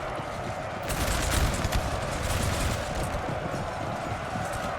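Massed musket volleys from line infantry in a Napoleon: Total War battle, with Prussian flanking fire and grenadiers, make a dense, continuous crackle of overlapping distant shots with no talk.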